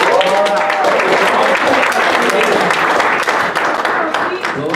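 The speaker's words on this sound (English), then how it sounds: "everybody give DeQuan Howard a round of applause." Strong, continuous applause fills the room at a university open mic night, many hands clapping together with scattered voices and cheers mixed in throughout.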